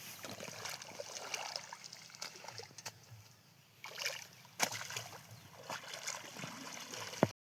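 Water flowing into a farm field gives a faint, steady rushing trickle with occasional soft splashy bumps, heard fairly distant with no clear talking.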